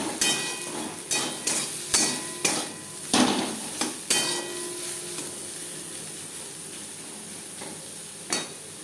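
Eggplant with spices cooking in a pan, a steady background sizzle under repeated sharp clanks of a utensil against the pan, several in a row and then fading to a lone knock, close by.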